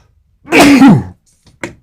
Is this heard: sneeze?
yes